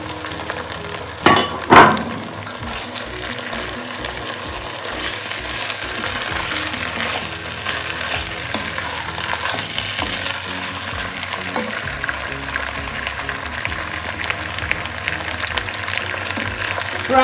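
Chopped vegetables going into a pan for a Cameroonian poulet DG, two sharp clatters at the start, then a steady soft sizzle of frying that carries on for the rest of the clip.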